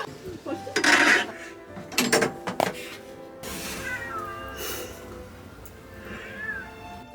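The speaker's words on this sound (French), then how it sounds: "Je viens de me faire engueuler par un chat." A cat meows several times in a room, its rising calls standing out over clattering dishes and drawer sounds, with people talking nearby.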